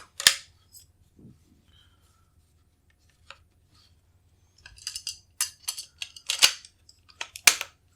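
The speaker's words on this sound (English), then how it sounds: "Drop it into the notches. Pull back." Faxon ARAK-21 multi-caliber rifle getting a 300 Blackout barrel dropped into its notches and pulled back: a sharp metallic click, a few faint taps, then a cluster of close clinks and snaps.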